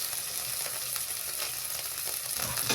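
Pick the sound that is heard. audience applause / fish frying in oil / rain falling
fish frying in oil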